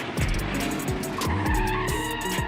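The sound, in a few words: race car skidding as it drifts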